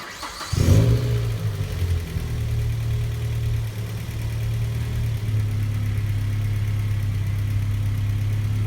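A car engine starts and then idles steadily with the air conditioning switched on during an auto AC recharge, a low constant hum with a faint compressor whir throughout, no talking.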